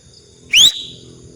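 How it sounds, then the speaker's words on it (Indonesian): A single sharp whistled signal, made by a person rather than a bird, rises quickly in pitch and lasts about a quarter second against a quiet outdoor background. "Ada suitan kode. Bukan burung itu Yud."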